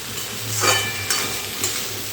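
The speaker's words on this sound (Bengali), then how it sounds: "তারপর গ্যাসের ফ্লেমটা মিডিয়ামে রেখে সব কিছু আবারও খুব ভালো করে ভেজে নিতে হবে।" Brinjal, beans and spring onions with chili powder stir-fry over a medium gas flame, a soft sizzle broken by three distinct scraping stirs of a utensil through the pan, close and clear with no talk.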